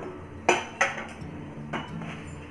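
A cooking pan gets covered with its lid while tomatoes cook for chickpea tikki, giving two sharp metallic clinks close together, then a softer clatter as the lid settles, with no talk.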